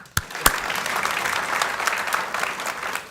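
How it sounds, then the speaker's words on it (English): Audience applause at a North Charleston city council and state-of-the-city event, opening with a couple of sharp individual claps before settling into steady, moderately dense clapping. "Give her a clap it up."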